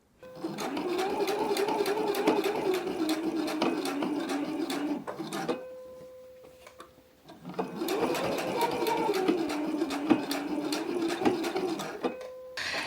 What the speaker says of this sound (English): Let me do the edge stitch and then I'll pull out all the snaps.